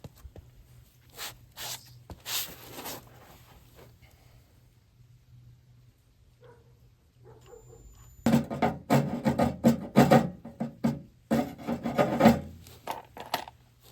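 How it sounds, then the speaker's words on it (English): A drill bores holes in a BMW E36 convertible during restoration work, with short scraping bursts early on, a quiet pause, then a longer, louder run of rasping grinding near the car. "We're gonna go ahead and drill these holes."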